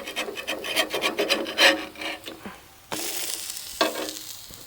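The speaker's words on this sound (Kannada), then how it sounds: "ಮೂರು ದೋಸೆಯನ್ನು ಹಾಗೆ ತಿರುಗಿಸಿ ಹಾಕಿದರೆ ಆಯಿತು" Set dosa cooking on a hot pan as it is flipped, close and fairly loud: a steady rasping sizzle with scraping strokes, a sharp flip around the middle, then a fresh burst of sizzle.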